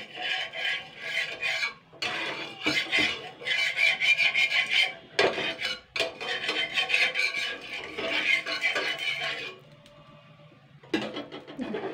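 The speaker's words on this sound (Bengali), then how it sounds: "1 চামচ তেল দিয়ে কিন্তু আমি এই চাটুটা একটুখানি মাখিয়ে নেবো, পালিশ করে নেবো।" Refined oil being rubbed across a medium-hot tawa griddle, heard as close, repeated rasping strokes with brief pauses between passes and a quieter stretch near the end.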